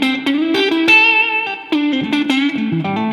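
Electric guitar through humbucker pickups with the volume knob turned up for a hotter, boosted output, playing a short run of clear sustained notes and chords at steady loudness, with no talking.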